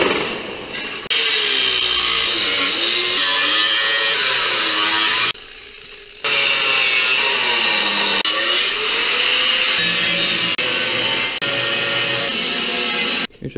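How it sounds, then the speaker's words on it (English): A power tool cuts through a steel truck crossmember on a pickup or 4Runner, a loud, sustained whining grind with shifting pitch that stops briefly near the middle, then resumes for several more seconds. "we're gonna cut it just a little above the seam"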